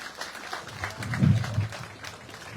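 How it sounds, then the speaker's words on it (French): Audience applause at an outdoor memorial festival in Petit-Canal, Guadeloupe, a moderate wash of clapping that swells briefly in the middle and then settles, with a busy crowd murmur behind it. "Vos applaudissements, mesdames et messieurs."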